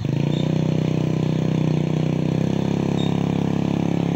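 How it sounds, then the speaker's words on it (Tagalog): A motorcycle engine idles steadily nearby while someone tries the bike out, with an even, continuous mechanical putter and clatter and no talking. "Trinatry pa ni Mama Walin yung motor ni Jing."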